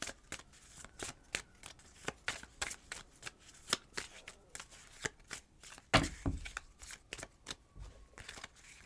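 A deck of oracle cards is shuffled by hand in steady, repeated riffling bursts, close and crisp, with a heavier rustle partway through and no voices.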